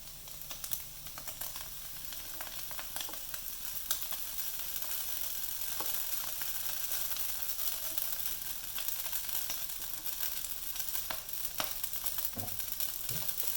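Rice vermicelli (mihun) frying in a pan for Malaysian fried bihun, a steady bright sizzle with scattered clicks and taps of stirring, even and close throughout.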